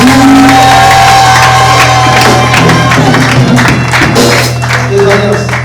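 Wedding congregation at a religious ceremony cheering and acclaiming loudly and continuously, a dense crowd roar of shouts and whoops that holds steady throughout.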